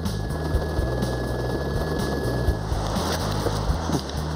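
A helicopter's rotor thumps steadily and loudly, a close, continuous rhythmic drone with wind noise, on a fishing trip to Rivière La Grande.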